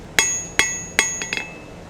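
Three sharp, ringing hammer blows strike a hot steel S hook on an anvil at an even beat, followed by two lighter taps. Each hit leaves a bright metallic ring that decays quickly, close and loud with no talk.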